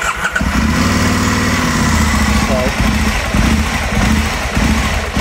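An Aprilia Caponord motorcycle engine idles right after a hot start, loud and close, its revs hunting up and down unevenly through the whole stretch.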